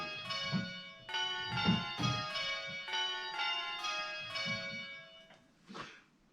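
Four bells rung on a bell-ringing simulator, struck in quick succession with clear metallic tones that overlap and ring on, a steady round of strikes filling the clip before fading near the end.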